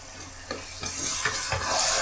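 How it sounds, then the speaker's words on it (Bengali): Chaltar (elephant apple) pickle with spices being stirred in a pan, a spoon scraping in a few soft strokes over a steady low sizzle, close and alone without voices. "আমি এভাবে ভালোভাবে মিশিয়ে নিচ্ছি।"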